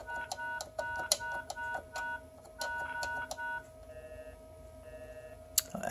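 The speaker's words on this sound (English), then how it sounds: "Now you can dial any number that you want." Touch-tone keypad beeps from dialing on a pay phone escape room prop fitted with a coin acceptor, a quick series of short dual-tone presses in bursts, then a steady dial tone hum after the last digit, with no talking.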